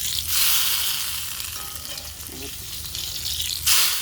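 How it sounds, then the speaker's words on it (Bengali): Dal tadka tempering being poured into cooked dal: a loud, bright sizzling burst that fades and swells again, with a few soft utensil clinks and no talk. "তড়কা লাগিয়ে দিলাম ডালে"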